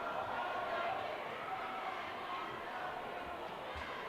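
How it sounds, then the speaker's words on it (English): A crowd at a boys' high school basketball game, Olympus against Highland, roars in a sustained, dense wash of booing and shouting after a foul call, distant and steady with a commentator talking over it. "The crowd did not like that."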